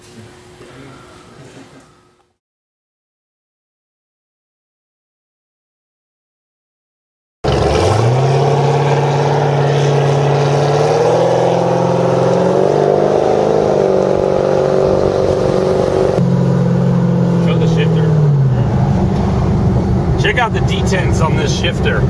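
A 1500 HP fifth-generation Chevrolet Camaro roars on the street after a short quiet stretch, its engine revving loudly and steadily with pitch rising and falling through the pulls, close and sustained.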